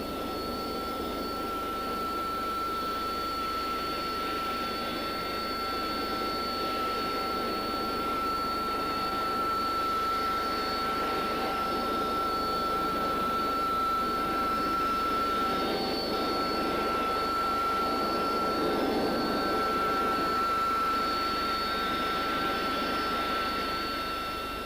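Harrier jump jet on an RAF airfield, its engine holding a loud, steady roar with a sustained high whine throughout, close and continuous with no voices.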